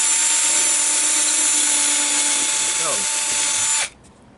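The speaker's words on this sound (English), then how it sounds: "Just show you drilling one." A power drill bores into pinball playfield wood, a loud steady high-pitched whine running continuously for almost four seconds before cutting off abruptly.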